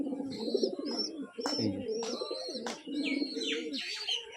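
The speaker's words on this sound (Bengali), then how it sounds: "এই দেখুন, এটা আমার বুড়ি পায়রা" Soft, repeated pigeon coos up close, with low throaty calls running steadily through the clip beneath a few higher bird chirps.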